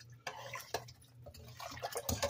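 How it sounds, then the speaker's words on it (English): A spoon stirs chicken bouillon broth seasoned with celery, onions and peppers in a pot, giving a few soft liquid swishes and light clinks close by at low volume. "you want to give it a good stir"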